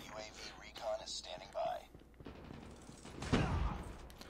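Bursts of rapid gunfire in Call of Duty Mobile, with rounds hitting walls, build into a loud, thumping volley near the end. A voice talks over the earlier, lighter shots.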